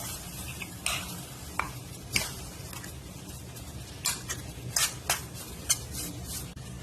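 Besan and urad dal roasting in a pan, with a steady low sizzle under sharp scraping and stirring clicks from a spoon at irregular intervals, close and alone without talk.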